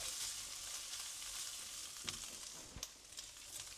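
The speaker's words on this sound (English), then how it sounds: "let's mix it all in now. Get it all incorporated with that pork mince" Pork mince with garlic and chilli stir-fried in a pan for Thai pad kra pao, giving a steady quiet sizzle broken by a couple of sharp stirring scrapes, with no talking.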